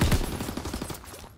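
Gunfire in Call of Duty: WWII hardcore team deathmatch on the London Docks map, a short burst of rapid, close shots that quickly trails off.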